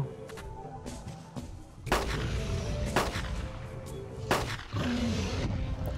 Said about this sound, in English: Three shots to the mouth.